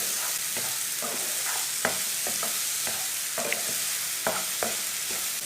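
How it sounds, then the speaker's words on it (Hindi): Keri (raw mango) chutney stirred and cooked in a pan over a medium flame, with a steady sizzle and irregular scraping strokes of a spoon, close and moderately loud, with no talking. "अब इसे दोबारा 3 मिनट तक मीडियम आंच पर पका लेंगे।"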